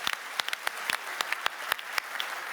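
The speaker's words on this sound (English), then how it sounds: "Please give them up for a round of applause as well." Faint, thin applause from a forum audience greeting factory representatives at a corporate manufacturing day event: separate, distinct claps in an irregular rhythm, heard from a distance.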